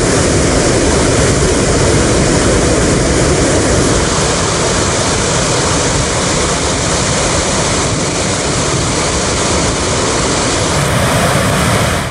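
Water roaring through a dam spillway at a reservoir on the Kola Peninsula, a loud, steady, broadband rush that stays constant and close throughout with no voices.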